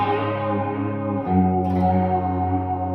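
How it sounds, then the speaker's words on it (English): Sustained electric guitar notes run through a modulation pedal, a warbling, chorus-like effect, the tone swirling and shifting as the notes ring out; no voices. "Love this modulation pedal."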